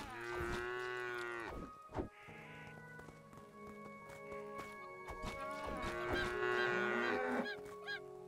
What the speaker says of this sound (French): Voilà, encore une vache ici.